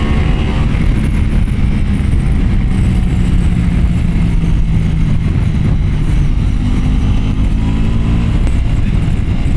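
A BMW M1000RR and a Ducati Pikes Peak motorcycles ride at speed, their engines giving a steady, loud, continuous roar mixed with wind rush throughout, with no talk.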